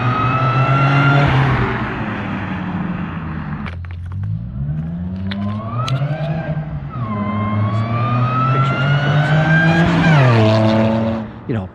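A Stillen-modified Nissan 350Z engine revving loudly, the exhaust note rising and falling through several sweeping climbs and drops, close and sustained.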